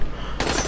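Gunfire in the zombie game Dying Light: The Following, a short burst of shots starting partway through, loud and close, with no talking.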